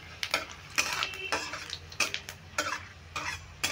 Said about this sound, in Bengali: এবার ফোড়নটা খুব ভালো করে নেড়ে ভেজে নেব।